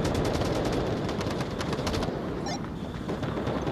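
Rapid automatic gunfire fills a firefight in the VR shooter Onward on Oculus, loud continuous bursts with dense crackling shots and no speech.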